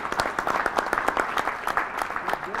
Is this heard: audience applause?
yes